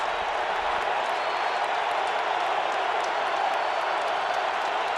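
A dense NFL stadium crowd at a Cowboys vs Colts game roars and cheers steadily, a broad continuous wash of noise with no breaks.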